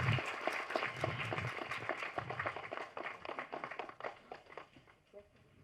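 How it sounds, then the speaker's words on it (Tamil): Applause at a Tamil Nadu film festival award event greets a speaker coming to the stage, with dense clapping from the audience that fades toward the end. "ஒரு பெரிய கைத்தட்டலோட டாக்டர் சிவகுமார் அவர்களே மேடை கலைக்கிறோம்."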